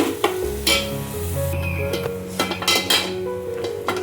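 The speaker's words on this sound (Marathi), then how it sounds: "टाकलेलं कांदा खोबऱ्याचं वाटण आहे ना छान असं तेलामध्ये फिरवून घ्यायचंय मस्त" An onion-coconut paste is stirred in hot oil in a pan, with a spoon scraping and clinking against the metal over a continuous sizzle, close and busy, with a few sharper knocks.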